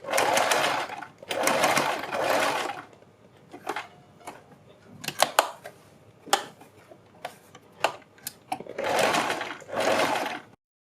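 A sewing machine stitching a kurti neck with buckram, running in several quick bursts of rapid mechanical clatter separated by pauses and scattered small clicks, close by and fairly quiet.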